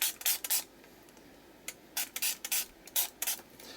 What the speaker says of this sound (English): I'm getting a jet that's going to spray everywhere